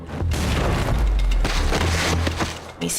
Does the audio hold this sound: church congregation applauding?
no